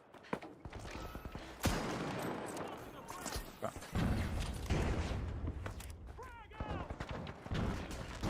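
Rapid shotgun blasts and gunfire from a video game match, loud and close, mixed with clattering mechanisms and an announcer's voice talking over the action.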